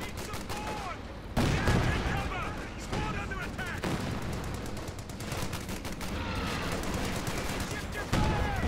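Rapid gunfire volleys and bursts crackle through a Company of Heroes 2 battle, with anti-tank guns and MG-34 machine guns in the fight. Sharp shots stack into dense, loud fusillades with occasional heavier thumps, while a commentator talks over them.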